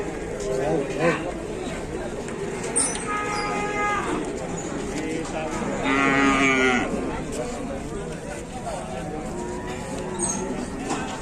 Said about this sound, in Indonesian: Ternyata sapi betina ini